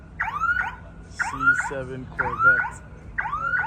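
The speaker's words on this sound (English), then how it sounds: "Sorry about the alarm behind me." A car alarm blares in the background at a street gathering of cars and bikers, cycling through loud repeating swooping whoops and chirps while someone talks over it nearby.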